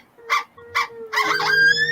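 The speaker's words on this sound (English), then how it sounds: "Got my dog barking." A dog barks twice in sharp, close bursts, then breaks into a longer, higher whining yelp, heard outdoors during an elk backstrap smoking cook with no talk over it.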